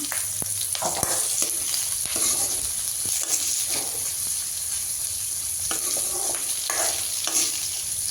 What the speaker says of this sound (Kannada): ಎಲ್ಲ ಫ್ರೈ ಮಾಡ್ತಾಯಿದ್ದೀನಿ